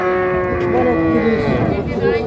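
A local heifer calf at the Banani cattle market in Bogura gives one long, loud, close moo that fills the whole moment, with a hint of background voices.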